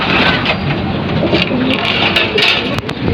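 A racing pigeon returning to its loft during rainy training coos close by over a steady wash of rain and rustling.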